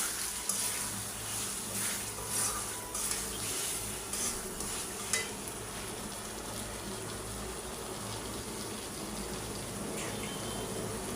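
Masala spices frying and being stirred in a pan for a vegetarian vegetable dish, a steady close sizzle with faint scraping strokes, mostly toward the start, and no talking.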